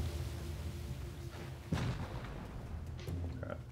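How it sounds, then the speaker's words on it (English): Rocket launcher fire in Rust Console Edition booms in a few muffled blasts, one sharper hit standing out over a low rumbling game background. "they got rockets on the bat, I think. Yeah, rocket launching."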